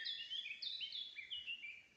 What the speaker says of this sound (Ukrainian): соловейки